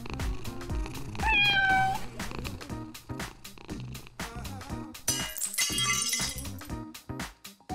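A cat meows several times in a row, with clear rising and falling tones, close and loud, amid background clatter and a brief clinking, shattering burst near the end.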